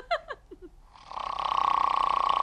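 A man snoring loudly at home in a Turkish family comedy setting, one long rattling inhaled snore building and holding after a few brief vocal sounds at the start.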